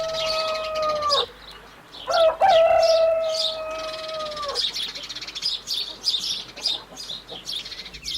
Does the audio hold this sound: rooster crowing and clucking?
yes